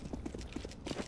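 Hooves of a horse pulling a wagon in a video game, several quick clip-clop beats in an uneven trotting rhythm, fairly faint and brief, with no talking.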